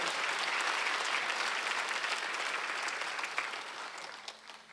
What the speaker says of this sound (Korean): 박수 세게 쳐봐요.